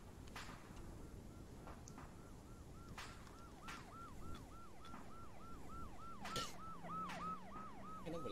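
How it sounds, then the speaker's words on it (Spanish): A wailing ambulance siren in the video game ArmA 3 sweeps up and down in a steady repeating cycle, growing slightly louder, over a busy background of clatter and rumble. "Llegaron. Tenemos ambulancia."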